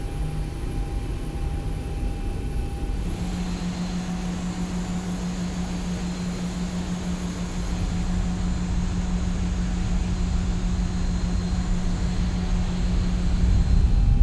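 Boeing 737 engines in the X-Plane flight simulator spool up for taxi, a steady turbine whine and hum that jumps in pitch early on, then swells gradually louder, with no voices.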